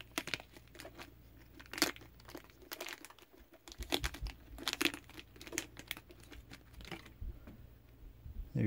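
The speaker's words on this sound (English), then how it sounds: "you're just gonna get the utility knife and just cut all around the edge" A utility knife cuts vinyl wrap along the edge of a fog light, giving close, irregular crinkly scratching and small tearing sounds in short bursts, fairly quiet, with no talking.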